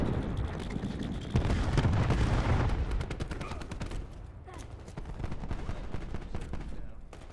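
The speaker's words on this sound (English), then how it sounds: "Cluster grenade" Cluster grenade explosions in Call of Duty Black Ops 4 multiplayer, a heavy rumbling burst followed by a scatter of sharp cracks and pops over several seconds, loud at first then trailing off amid other gunfire.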